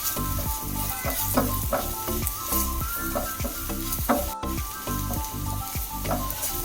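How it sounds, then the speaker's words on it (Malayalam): Coriander powder sautés in a pan for a Kerala-style ivy gourd and bilimbi curry, giving a loud, dense sizzle with rapid, repeated spoon scrapes and clanks, close up and without speech. "ഒരു ടീസ്പൂൺ മല്ലിപ്പൊടി ഇപ്പൊ ചേർത്ത് ഒന്ന് വഴറ്റാം"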